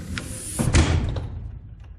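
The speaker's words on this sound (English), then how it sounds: "if we want to go ahead and shut it, you just push the door open a little further, it'll release" A heavy-duty race trailer door swings shut with a single solid thud, preceded by a brief creak and followed by a short fading rattle, close and fairly loud.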